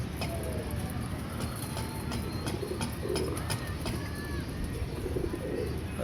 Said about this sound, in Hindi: नया कबूतर जो है आसमान की तरफ नहीं जाता, बांधे हुए कबूतर हैं